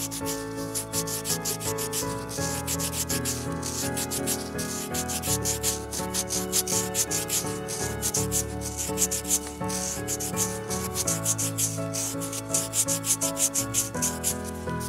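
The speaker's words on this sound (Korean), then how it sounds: "굵은 사포 220번 사포로 사용해서 갈아내줍니다" Coarse 220-grit sandpaper rubs back and forth over a miniature bowl in steady, close, rhythmic scratchy strokes, with no talking.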